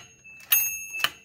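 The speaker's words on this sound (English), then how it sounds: "So here's what the bell return sounds like right now." Torpedo 18B typewriter carriage bell ringing twice in quick succession, two sharp metallic dings with a rattling carriage return, close and alone.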